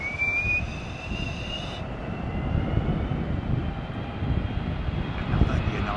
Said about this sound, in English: Another United 777-2. This one with the Pratt & Whitneys, I think.